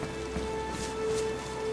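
Steady, soft rain falling in the survival video game DayZ, a faint continuous hiss with a low tonal hum beneath it.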